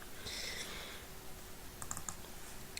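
A computer mouse or keyboard gives a few faint clicks against quiet room tone, with a short cluster of sharp taps near the end.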